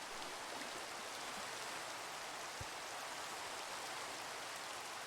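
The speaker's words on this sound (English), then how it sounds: "See that there's a ton of rain sitting over here" Steady Minecraft rain hisses evenly and continuously, a dense, unbroken patter with no voices.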